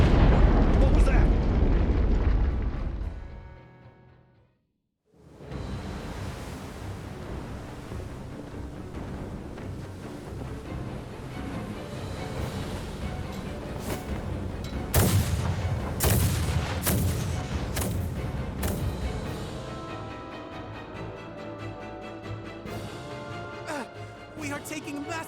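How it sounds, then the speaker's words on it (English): Heavy naval artillery bombardment in Star Ocean: The Divine Force: rumbling booms and blasts fill most of the stretch, dropping out briefly before a dense barrage resumes with sharp impacts, over music and voices. "We are taking massive fire from the Empire's naval battalion."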